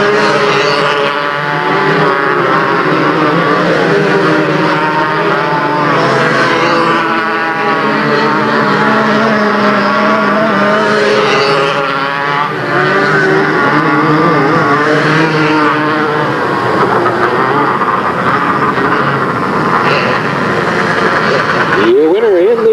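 Race cars on the final lap at Delta Speedway roar continuously through the whole stretch, loud and sustained, with an announcer's voice running over the engine noise.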